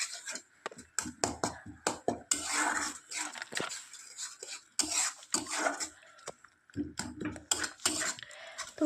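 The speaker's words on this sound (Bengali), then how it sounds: "একটু চিপে চিপে টমেটোটাকে ভেজে নিতে হবে।" A spatula or spoon scrapes and presses tomatoes as they fry in a pan for tomato chutney, making irregular close metallic clatter and stirring strokes.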